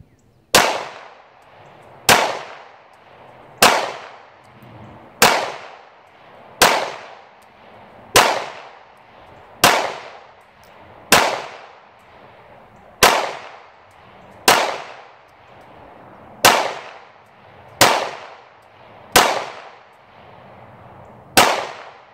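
A Smith & Wesson SD9VE pistol fires steady, evenly spaced shots at steel targets outdoors, about fourteen sharp cracks each ringing briefly off metal, loud and alone.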